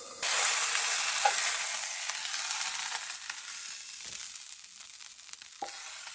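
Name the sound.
patty frying in a hot pan on an electric stove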